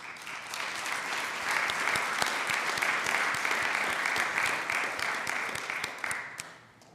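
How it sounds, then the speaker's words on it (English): A room full of people at a city council meeting claps for a reappointed member, crisp individual claps swelling into steady applause before tapering off at the end. "If you guys could give him a round of applause."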